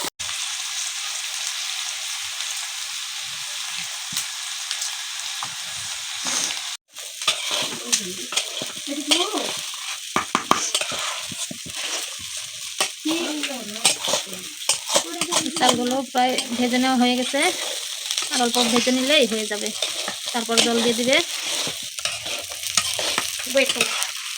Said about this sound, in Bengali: এই পোলাওয়ের জন্য ধুয়ে রাখা চাউল ওগুলো দিয়ে দেওয়া হলো